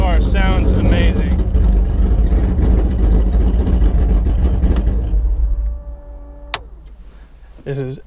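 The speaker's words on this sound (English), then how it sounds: "This car sounds amazing." The race engine of a 2010 Ford Mustang Cobra Jet blares loudly and steadily up close, then cuts back to a quieter hum, with a short voice heard near the end.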